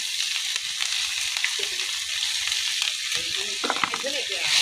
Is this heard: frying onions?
yes